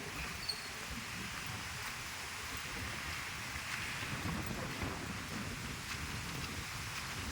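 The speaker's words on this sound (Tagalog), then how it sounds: "Dahil lakas ng hangin" Strong typhoon wind roars steadily over the microphone by the sea at El Nido, Palawan, with a constant rushing noise and faint surf underneath.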